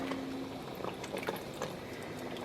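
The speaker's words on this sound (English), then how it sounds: "I'm gonna add some water to it" Water, slightly acidic, is poured onto yarn during immersion dyeing, a close continuous splashing and bubbling pour that stays steady for the whole stretch.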